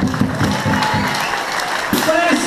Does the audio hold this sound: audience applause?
yes